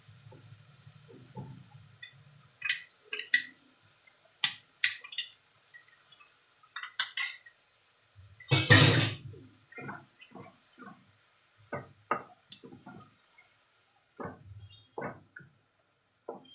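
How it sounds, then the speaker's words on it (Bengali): Black chana mixture stirred in a metal pan, heard as scattered clinks and scrapes of a spoon against the pan with one louder rattling clatter midway, close and without talking. "এই মিক্সচারটা দিয়ে দিলাম, দিয়ে ভালো করে নাড়া দেবো"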